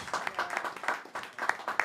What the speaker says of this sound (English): Round of applause for Mr. Mark Aaron James, you guys.